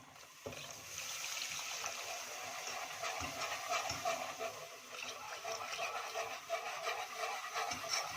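Milk trickles gradually into a béchamel sauce for baked macaroni while a utensil stirs and scrapes the pan, with soft, uneven sloshing and occasional clinks, quiet and close.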